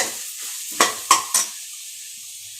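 Spinach with salt frying in a pan: a low sizzle broken by three quick, distinct stirring scrapes close together near the middle, then a quiet, faint hiss, with no talking.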